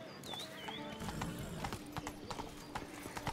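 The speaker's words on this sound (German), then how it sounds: "plötzlich erscheint unser Pferd, das stand direkt vorm Eingang." Steady clip-clop of horse hooves at a walking pace in the video game The Witcher 3: Blood and Wine, fairly close, with a brief whinny early on and some faint background sound.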